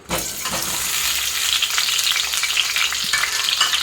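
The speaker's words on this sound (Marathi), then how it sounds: "इथे मी दोन ते तीन चमचे तेल टाकत आहे हे बटाटे आपल्याला तेलामध्ये टाकून द्यायचे आहे" Potatoes dropped into a few spoonfuls of hot oil for dhaba-style dum aloo, a sudden burst of loud sizzling that settles into a continuous crackling fry with occasional stirring clinks and no voices.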